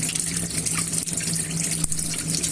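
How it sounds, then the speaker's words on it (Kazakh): Running water pours down a cleared kitchen sink pipe in a loud, continuous splashing rush close by, with no talking. "Міне менің ас құбырымдағы су жақсы ақты."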